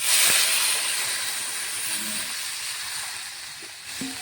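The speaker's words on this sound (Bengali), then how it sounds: "এখন পরিমাণ মতন জল দিয়ে দেবো।" Water goes into a hot pan of spiced vegetables for a thin rui fish curry. A loud steamy hiss bursts up at once, then slowly fades into a softer, steady sizzle close to the listener.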